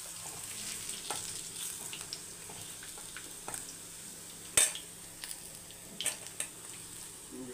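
Food fries in a pan of hot oil during a home cooking session, a quiet continuous sizzle broken by a few sharp clinks and scrapes of utensils against the pan.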